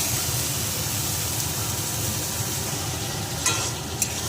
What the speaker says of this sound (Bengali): কষানো হয়ে গেছে, এবার আলু আর ফুলকপিটা দিয়ে দিচ্ছি।